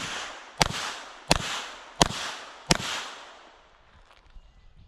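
A Smith & Wesson revolver fires a string of sharp, loud shots outdoors at a steady pace about a second apart, each crack followed by a fading ring of echo, then the air settles into quiet.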